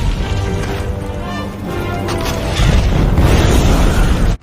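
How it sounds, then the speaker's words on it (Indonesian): An explosion blowing up the main gate in a Han dynasty war film battle scene, a loud sustained booming rumble that swells and crashes on with debris-like clatter, then cuts off abruptly, with no speech. "Gan Xing yang terluka parah mengorbankan dirinya sendiri untuk meledakkan gerbang utama"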